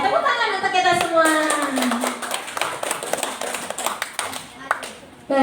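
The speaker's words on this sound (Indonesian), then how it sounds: "tepuk tangan untuk kita semua" A primary school class claps together in a short burst of hand taps, close and fairly loud, with children's voices chattering and calling out over and between the claps.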